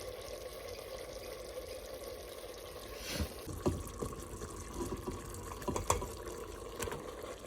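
A small amount of water is poured into rice cooking in a pot in a home kitchen, making a faint trickle and a few soft splashes and drips over a quiet background hum.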